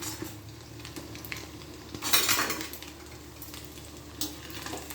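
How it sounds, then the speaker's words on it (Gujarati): Rice bhajiya fritters fry gently in oil over a low gas flame, giving a faint, soft sizzle with a brief louder burst of bubbling midway and a light clink of a utensil. "અને ચડવા દેવાના ભજીયાને, ચડવા દેવાના, પાકવા દેવાના."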